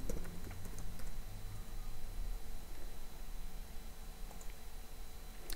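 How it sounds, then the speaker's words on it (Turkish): Soft, quick keystrokes on a computer keyboard as a password is entered, scattered faint taps and clicks over a steady background hiss of room and fan noise, with no talking. "Şifresini yazıyorum."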